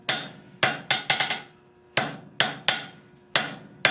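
A hammer strikes a hot steel tong jaw on an anvil in sharp, ringing blows that come in irregular clusters of two and three, close and loud, with no voices.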